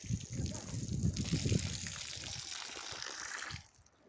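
Garden watering water splashes and trickles close by, a bubbling, gurgling flow that fades abruptly as it is shut off, leaving quiet.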